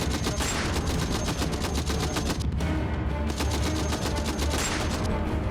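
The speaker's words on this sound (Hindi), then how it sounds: "तभी अचानक गोलियां गरजने लगी" Sustained bursts of automatic gunfire strike a convoy vehicle in Afghanistan, rapid cracking rounds in a dense, continuous rhythm with a brief lull midway before the shooting resumes.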